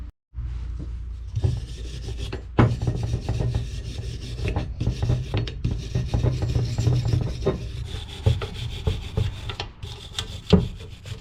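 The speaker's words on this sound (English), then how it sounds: "I just decided to clean it up with a wire brush." Wire brush scrubbing an alternator from a 4G63 engine, a steady close rasping with irregular strokes and a few sharper scrapes and knocks.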